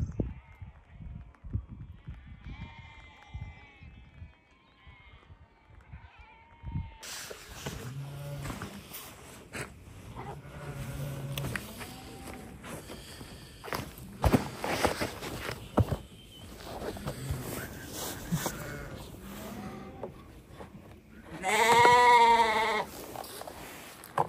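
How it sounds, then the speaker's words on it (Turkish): Sheep of a scattered mountain flock bleat in the snow and fog, a few wavering calls near and far, the loudest late on, with footsteps, shuffling and wind noise around them and no speech. "Orada kaç tane koyun işte. Var bir 4-5 tane."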